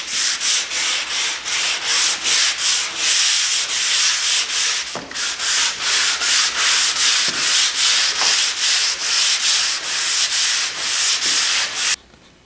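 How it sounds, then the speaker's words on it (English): Steady back-and-forth sanding of wood veneer and edging, loud and close, with rhythmic rasping strokes repeating about twice a second, a brief pause midway, then stopping abruptly near the end. "So, I've completed sanding this particular piece"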